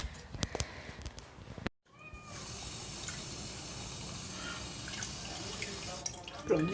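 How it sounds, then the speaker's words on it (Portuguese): Tap water runs steadily into a plastic toy at a sink, a continuous loud splashing hiss that starts abruptly after a brief silence, with faint clicks and handling noises before it. "Eu vou colocar água aqui rapidinho."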